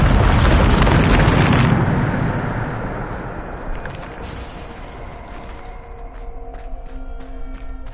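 A Bombarda spell explosion in Hogwarts Legacy erupts as a loud, broad blast that fills the opening seconds, then decays into a long rumbling tail with faint game ambience and small chimes.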